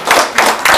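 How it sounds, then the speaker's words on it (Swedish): Three short, loud bursts of rhythmic hand clapping from a close audience at a Swedish talk, spaced evenly in under a second, with no talking. "En stor applåd för de här sakerna."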